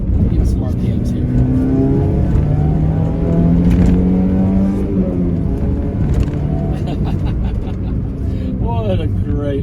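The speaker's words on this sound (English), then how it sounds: "That motor sounds fantastic. Alright, let's get some RPMs here." A 1988 Nissan Pulsar NX SE five-speed hatchback engine revs up and down, loud and close, with rising and falling tones throughout while someone talks over it.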